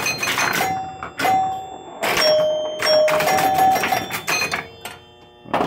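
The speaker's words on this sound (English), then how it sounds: "as you can see, we got chimes again." A rebuilt 1976 Williams Grand Prix pinball chime box ringing, with loud metallic bell tones struck in irregular succession, some overlapping and ringing out, close and prominent.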